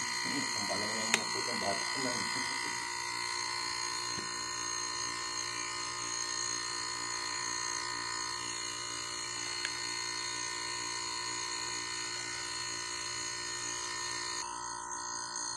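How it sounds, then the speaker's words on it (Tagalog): Vacuum pump running steadily during repair of a leaking window air conditioner condenser, a constant electric whine and buzz throughout, with speech heard over it early on. "patay natin yung ating vacuum."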